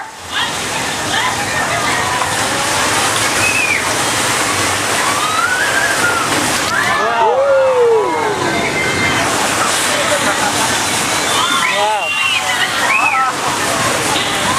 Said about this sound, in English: That was a result of thousands of gallons of recycled water being plunged towards the tram towards you.